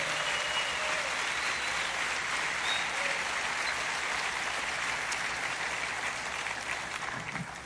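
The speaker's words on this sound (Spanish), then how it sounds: "Y los íntegros le dan un aplauso fuerte al Señor Jesucristo." A congregation at a church conference bursts into strong, sustained applause, a thick continuous roar of many hands clapping that stays loud throughout and eases slightly at the very end.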